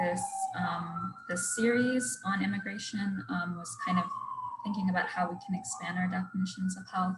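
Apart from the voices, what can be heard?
emergency vehicle sirens outside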